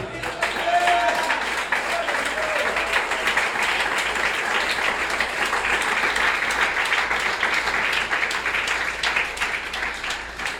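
A church congregation applauds in a sustained, even wash of clapping that holds steady for about ten seconds, fairly loud and filling the room, with faint voices mixed underneath.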